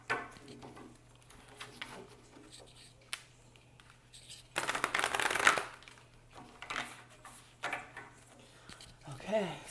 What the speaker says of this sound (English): Sometimes I don't enjoy shuffling.